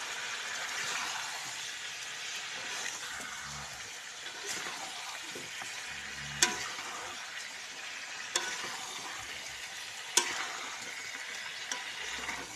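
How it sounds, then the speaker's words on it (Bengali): Chicken kosha curry with potatoes sizzles steadily in a pan, with a constant frying hiss broken by occasional sharp scrapes and clinks of stirring. "তো বন্ধুরা এরকম চিকেন রান্না করছি"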